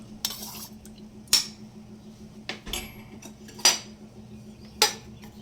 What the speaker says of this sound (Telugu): కలిపిన కస్టర్డ్ పౌడర్ కొద్ది మిల్క్తో ఇప్పుడు ఇందులో మిక్స్ చేసేయాలి